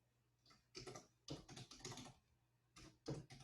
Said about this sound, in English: And I will go ahead and type my first title.